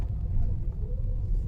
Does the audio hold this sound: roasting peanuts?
no